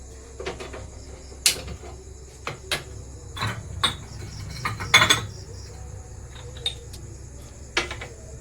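Dry spices roast in a pan for a katla fish curry, with a spoon scraping and clinking against the metal in sparse, irregular taps over a faint background crackle.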